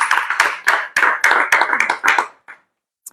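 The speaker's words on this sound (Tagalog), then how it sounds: "Palakpak." Applause at a church meeting: a burst of hand clapping, loud and close, with sharp irregular claps thinning out and stopping after about two and a half seconds, then one last lone clap.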